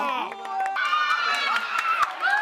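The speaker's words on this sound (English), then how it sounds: "I'm sitting in a crowd, and dogs are barking, and crowd is cheering" Crowd noise at an October night softball game, with overlapping voices and shouting fans in a busy, lively mix; the sound is crowd chatter rather than a clear burst of cheering.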